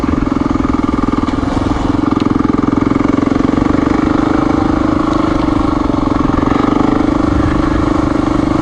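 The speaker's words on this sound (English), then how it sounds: "this bike, since I've cleaned the carb and I adjusted the valves, I can't really complain about it starting" A Honda XR400R motorcycle engine with a cleaned carburetor and freshly adjusted valves runs steadily nearby, a loud, even, thumping drone that holds constant throughout with no speech.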